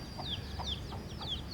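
A mother hen and her chicks in a warm, humid garden: soft repeated clucks under a series of high, thin chick peeps, faint and somewhat distant, with no talking.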